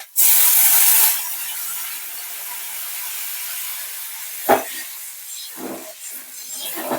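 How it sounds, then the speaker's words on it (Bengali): Water hits fried spice paste for masala eggplant in a burst of loud sizzling hiss that lasts about a second, then settles into a quieter simmering crackle with a few scraping knocks. "মশলাটা ভাজা ভাজা হয়ে গেছে এবার জল দিয়ে দিচ্ছি মশলাতে"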